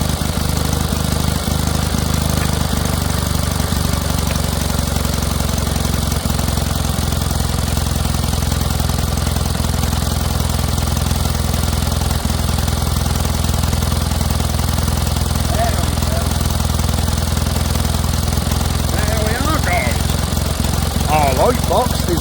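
A vintage Kohler generator runs steadily with a slipping drive belt, powering a homemade light box; a loud, continuous engine drone with a low rumble fills the whole stretch, with faint squeaky tones near the end.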